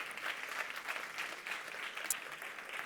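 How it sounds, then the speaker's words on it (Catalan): At a round-table panel, an audience applauds a speaker being introduced, a soft, moderately distant spatter of clapping with slight swells and no speech. "Un fort aplaudiment per ell."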